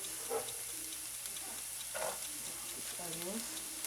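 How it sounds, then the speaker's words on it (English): Onions hitting hot oil in a pan for vegan sausage and biscuits, giving a steady broadband sizzle under faint stirring clinks, with a voice speaking softly in short bursts over it. "I just added some oil. And now what I'm going to do is I'm going to add these onions"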